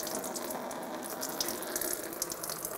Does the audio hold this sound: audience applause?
no